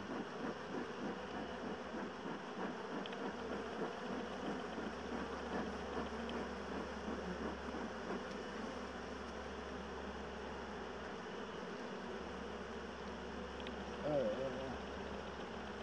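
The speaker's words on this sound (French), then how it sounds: "il y a du monde dans cette ruche, elle est pétée d'abeilles" A dense, continuous hum of many honeybees inside a crowded hive during an inspection fills the recording, steady and close, with a low background drone beneath it.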